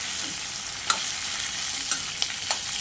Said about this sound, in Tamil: இப்போ பச்சை மிளகாய், மாங்காய், இஞ்சி எல்லாமே ஒன்றாவே போட்டு வதக்கிடலாங்க.